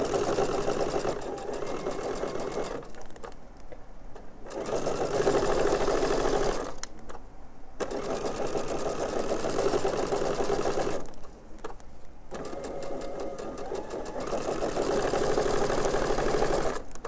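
A sewing machine runs in several stitching bursts, its needle chattering in a rapid mechanical rhythm, with short quiet pauses between each run.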